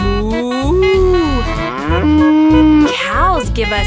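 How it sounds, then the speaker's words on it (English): A cow moos several times in a row, loud and close, with long drawn-out calls that rise and fall in pitch, alone in a song for children about farm animals. "This is the cow. She goes moo."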